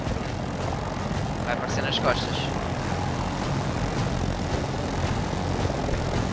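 Steady broadband helicopter roar in Battlefield 2042 fills the scene, with excited voices talking over it and a brief burst of higher noise.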